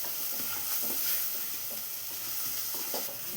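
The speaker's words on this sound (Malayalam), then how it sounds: "തക്കാളിയുടെ റോസ്മെല്ലാം ഒന്ന് മാറി വരുന്നവരെ വഴറ്റിയെടുക്കാം" Chopped tomato sautéing in a pan for a chickpea curry, a steady sizzle broken by repeated scraping stirs, close and fairly loud with no voices.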